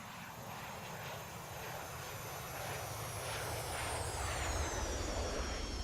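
Jet airliner flyby in a flight simulator, the FlyJSim 732 TwinJet, a steady broadband engine roar with a high whine that slowly drops in pitch as it passes, fairly loud and continuous with no talking.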